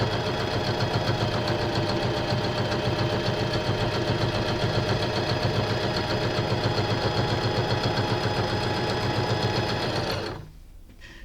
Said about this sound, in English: I am just going to step on my foot pedal, and I'm going to stitch that stitch out